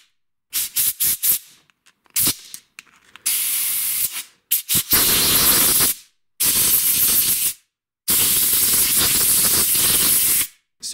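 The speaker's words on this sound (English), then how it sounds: "if I grab the other carb here, all the jets are removed. I can just go ahead and blow it all out." Compressed air blasts through a small-engine carburetor with the jets removed, a series of loud, close hissing bursts, short ones at first, then longer sustained sprays separated by silent pauses.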